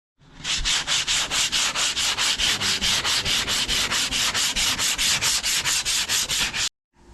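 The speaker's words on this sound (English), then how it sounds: "So start sanding this real nice and smooth" A quad body is sanded smooth by hand with steady, rapid back-and-forth rasping strokes, close and even in rhythm, continuing without pause for several seconds before stopping abruptly.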